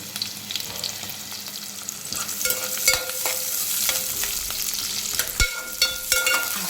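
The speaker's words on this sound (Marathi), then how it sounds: "हा कांदा मी लाल होईपर्यंत परतून घेते" Large-cut chopped onion frying in oil with garlic gives a steady sizzle, broken by repeated clinks and scrapes of a spatula stirring against the pan, fairly close and loud.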